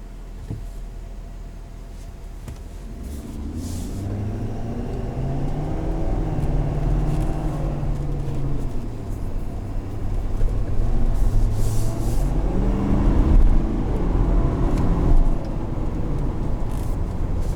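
A 2019 Ford F350 Lariat diesel pickup truck accelerating hard, its engine drone rising in pitch through the gears, loud and close from inside the cab, with a brief dip before the rev climbs again.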